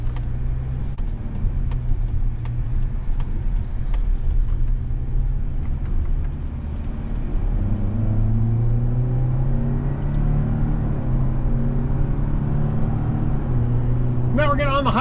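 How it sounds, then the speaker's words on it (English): A 2025 Mazda CX-90 Premium Plus plug-in hybrid in sport mode accelerates onto a highway with paddle shifts, a steady loud cabin rumble and road roar with engine tone rising and shifting, heard from inside. "Now we're getting on the highway, we're in sport mode and we're shifting with the paddles."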